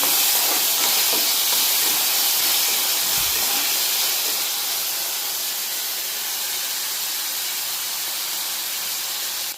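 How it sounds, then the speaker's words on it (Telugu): Tomato, green chilli and mint leaves fry in a pan with a loud, continuous close hiss that eases slightly over time, with no talking. "టమాటో, చిల్లీ, పుదీనా ఇది కొంచెం ఫ్రై అవ్వాలి"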